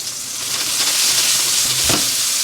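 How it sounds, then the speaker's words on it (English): Onions browning and caramelizing in hot fat in a pan: a close, bright hiss of sizzling that swells steadily, with a brief louder crackle near the end. "I'm gonna let these beautiful onions get brown and develop their flavor and caramelize"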